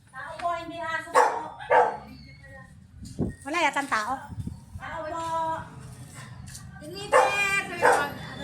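A dog barks repeatedly at visitors arriving at a house, several loud close yelping barks in uneven bursts, mixed with people calling out in the foreground.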